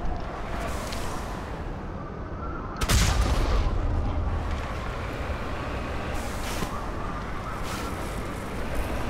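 A loud sniper shot cracks out in the video game Mass Effect, cutting sharply through dense background game noise and rumble, which keeps rolling on afterward with a few fainter impacts.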